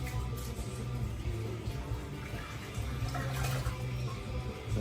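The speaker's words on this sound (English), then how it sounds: "we threw water in the overflow" Water poured into a nano reef aquarium's overflow, a steady low rushing and splashing that holds at an even level throughout, with faint background noise.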